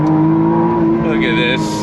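A 2025 McLaren Artura Spider launches under launch control from a standstill in first gear, its engine holding a steady loud drone that rises in pitch as the car pulls away, with a voice talking over it.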